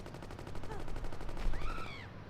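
Rapid gunfire in the gangster game Gangsters 2: Vendetta, a fast steady rattle of shots running through the whole stretch under a faint whistling tone, with no one talking.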